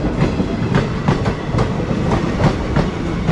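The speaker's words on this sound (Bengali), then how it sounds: "এটা হচ্ছে প্রয়াগরাজ রামবাগ থেকে ট্রেনটা যাচ্ছে কিন্তু বেনারস স্পেশাল ট্রেন।" Benaras special passenger train with engines at both ends running between Prayagraj and Rambagh, loud and close, steady rumble with repeated rhythmic clickety-clack of wheels over rail joints.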